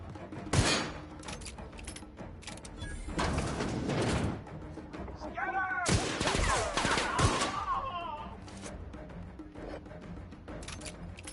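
Bursts of rapid gunfire in a video game, a sharp shot followed by longer fusillades of automatic fire, loud and close, with brief mechanical whirring between volleys.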